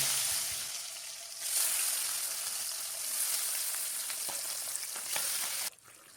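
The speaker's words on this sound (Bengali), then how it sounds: "তেল গরম হয়ে গেছে, এবার মাছগুলো ছেড়ে দিলাম।" Pabda fish sizzle and fry in hot oil in a wok, a steady loud crackling hiss that surges as the fish go in and carries on alone before dropping off sharply near the end.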